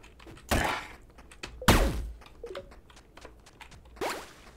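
Shovel digging in the video game Forager: a few separate thunking, scraping impacts spaced about a second or more apart, with a heavier strike near the middle and softer game effects between.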